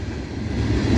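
A CSX mixed freight train carrying boxcars rolls past in Woodbine, Maryland, a close, heavy rumble of wheels on rails that grows slightly louder over one second, with no talk.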